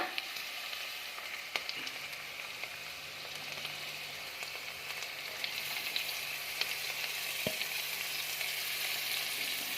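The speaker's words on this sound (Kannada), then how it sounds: "ಅದನ್ನು ಹಾಕ್ಕೊಂಡು ಫ್ರೈ ಮಾಡ್ಕೊಳ್ಳೋಣ" Chopped cabbage and cucumber fry in a pan for veg pulao, an even, close, crackling sizzle that runs throughout, with a couple of sharp clicks from stirring and no talking.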